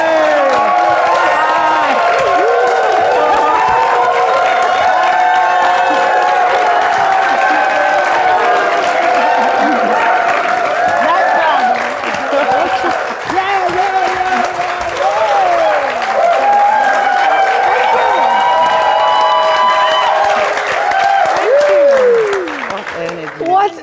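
A studio audience cheers and applauds loudly at a talk show as the hosts are welcomed, with continuous clapping, whoops and shouted voices from a packed crowd, holding strong for the full length before easing slightly at the end.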